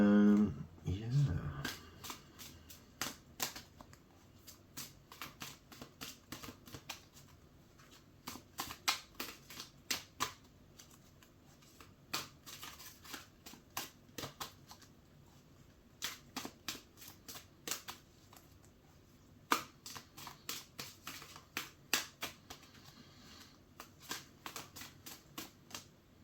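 A large, stiff tarot deck is shuffled by hand, producing repeated bursts of crisp riffling clicks in short runs with brief pauses between them, close and fairly quiet.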